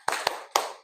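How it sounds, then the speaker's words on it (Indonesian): A class doing a rhythmic spirit clap: three sharp, close hand claps in quick succession, the first two rapid and the third after a short pause, each with a brief room echo. "Tepuk semangat."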